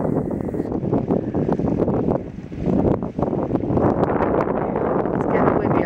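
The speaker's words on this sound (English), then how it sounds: "it's getting windy" Wind gusts across an open farmyard near chicken tractors, a loud rushing roar buffeting the microphone in uneven surges. A person speaks faintly underneath.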